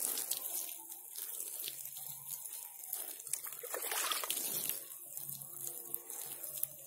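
Chili pepper seedlings are watered by hand, making soft, steady trickling and light sloshing, close and fairly quiet throughout with small splashes and no talk.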